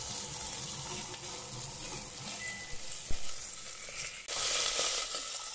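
Tomato frying in a pan with ginger paste, salt and turmeric, a steady close sizzle that swells louder near the end, with a brief clank of a utensil partway through.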